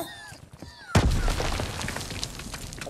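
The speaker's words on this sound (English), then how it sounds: "Grenade!" Grenade blast in Call of Duty: WWII during a beach assault, one sudden loud boom after a moment of quieter battle ambience, trailing into rumbling debris and distant gunfire.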